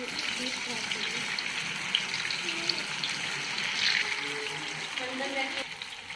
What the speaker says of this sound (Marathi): आता आपण याला डीप फ्राय करूया. तेल तापलेलं आहे. आपण याच्यामध्ये डीप फ्राय करूया.